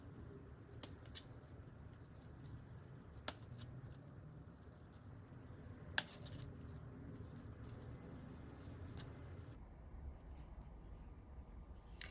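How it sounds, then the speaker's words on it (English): Scissors are picked up to snip yarn during brioche knitting, heard as faint isolated clicks and light handling noises over a quiet room hum. "And I'll pull through and just grab scissors."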